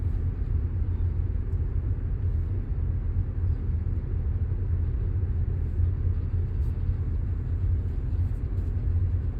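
An automatic car on a driving lesson in Kollam, heard from inside as a continuous low engine and road rumble, steady and even throughout while the car makes a turn.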